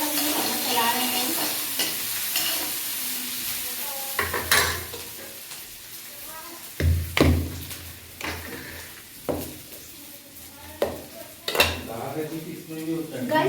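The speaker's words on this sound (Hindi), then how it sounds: "अब गाइस हम ये चम्मच चला रहे हैं।" A spoon stirs and scrapes chopped onions frying in a pan, with irregular clinks against the pan over a steady close sizzle, while occasional sharp knocks punctuate the mixing.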